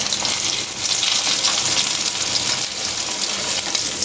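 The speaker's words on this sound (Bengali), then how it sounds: "এগুলো ভেজে নেবো" Hilsa fish roe fries in hot oil, a steady, loud crackling sizzle filling the whole stretch without a break, with no voices over it.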